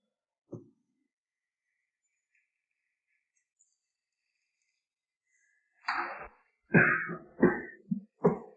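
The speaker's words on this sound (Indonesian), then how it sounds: "Batuk-batuk." A few short coughs from one person, a single faint cough early, then a cluster of rough bursts after a long silence, close and clear.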